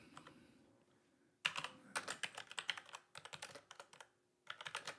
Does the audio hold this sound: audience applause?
no